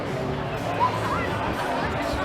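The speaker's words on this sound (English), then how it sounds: "It is quite a crowd." Murmuring crowd chatter on a busy downtown Toronto street around King and Queen on a Friday night, a steady mid-level babble of many voices with no single voice standing out.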